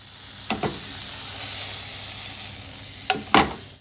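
Butter hitting a hot pan gives a steady, moderate sizzle throughout, with a few sharp clinks of utensils near the start and end.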